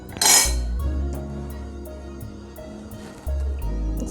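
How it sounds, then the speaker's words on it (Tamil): A spoon clinks and scrapes against a pot of heating milk as sugar is stirred in, with a sharp metallic clatter at the start followed by a low steady hum from the stove. "நல்லா கிளறி விட்டுக்கோங்க"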